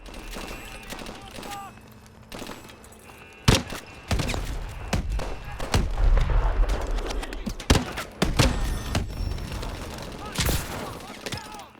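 Rapid gunfire bursts and heavy explosion thuds from the futuristic shooter game Call of Duty: Advanced Warfare, loud and clustered through most of the stretch, with sharp booms standing out over constant battle noise.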